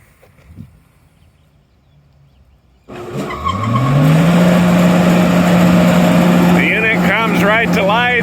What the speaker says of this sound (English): Now we are going to fire this unit up for you so you can see it run.